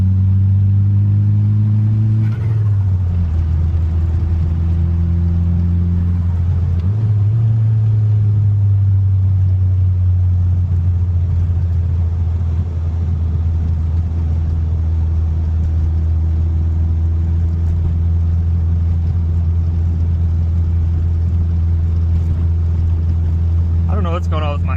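A Suzuki GSX motorcycle rides along with a loud, steady low engine drone, pitch shifting briefly as gears change and settling into a constant rumble, with someone talking over it.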